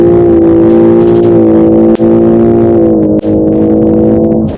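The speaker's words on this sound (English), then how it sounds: "the LS500H has got an entertaining exhaust note" A Lexus LS 500h hybrid's exhaust note while driving: a loud, close, sustained engine drone with a smooth rising and falling pitch, briefly dipping twice.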